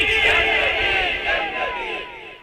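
A religious gathering's crowd shouts slogans in unison during a sermon, a loud massed roar of voices with sliding pitch, fading toward the end.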